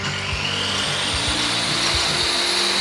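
A Dnipro-M GL-270 angle grinder runs at a steady, loud pitch for about three seconds, with a continuous hum and faint rhythmic pulsing.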